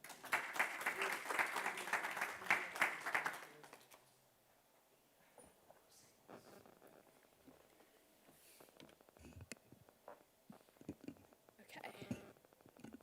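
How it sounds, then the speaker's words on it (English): Audience applause for an intern's final presentation, a brief burst of clapping for about three and a half seconds that fades into quiet room noise with faint murmurs and scattered small sounds. "a round of applause for Lillian Jacquemin"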